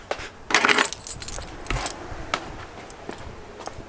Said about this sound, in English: Grab the keys over here.